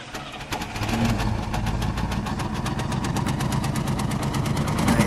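A 1964 Buick LeSabre Estate station wagon engine turns over and settles into a loud, steady idle with an even, rapid pulsing rhythm, heard close with no voices.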